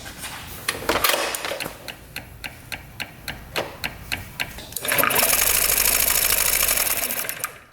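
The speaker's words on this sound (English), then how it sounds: "I'd say that's pretty good spark." Spark test on the ignition of a free used scooter fitted with a CR8EH spark plug: steady, evenly spaced sharp ticking snaps, then a louder continuous whirring rush as the starter seems to kick in, close and without speech.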